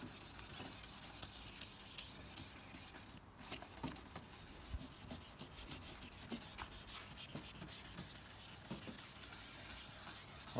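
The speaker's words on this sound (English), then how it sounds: "I just rub in those corners so that gets sanded as well" Hand sanding works into the corners of a BMW E90 323i headlight lens during restoration, a quiet, steady rubbing and scratching texture with repeated short strokes, close and alone.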